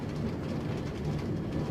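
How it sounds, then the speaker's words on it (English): A Minecraft train pulls into a station, a steady low rumble of rolling wagons with a continuous noisy wash that holds even and fairly loud throughout, with no voices over it. "As you can see, the train is almost there."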